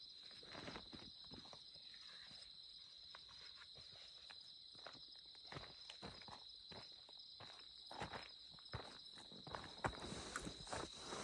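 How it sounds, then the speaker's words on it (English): Scattered footsteps crunch irregularly outdoors at night over a steady high insect drone, growing somewhat louder and closer toward the end. "Heard a footstep over there."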